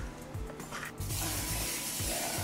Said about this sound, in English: We'll go ahead and get that sprayed down so it'll be ready for us to put our batter in.